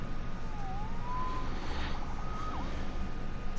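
A police siren wails in the Spider-Man video game, a wavering electronic tone rising and falling at moderate distance over a low steady rumble of ambient city noise.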